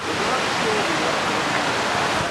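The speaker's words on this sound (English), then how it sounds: "there's a waterfall tumbling down probably 60, 70 feet" A waterfall about 60 to 70 feet high tumbles beside a river near a lake, a dense, steady roar of rushing water filling the air.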